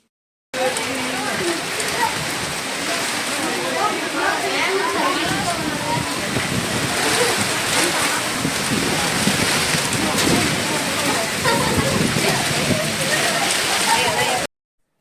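Heavy rain driven by strong wind, a dense, unbroken roaring hiss that stays loud and close for about fourteen seconds with no clear voices.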